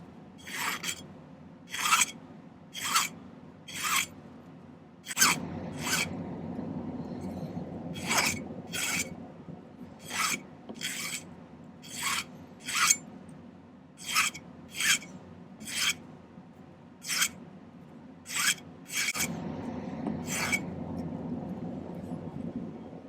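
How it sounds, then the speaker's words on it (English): A hand file cleans up the surface of a silver ring in a steady series of short, crisp rasping strokes, about sixteen in all, each a sharp scrape followed by a brief pause, heard up close. "I'm going to do a little bit of cleanup filing on the surface here."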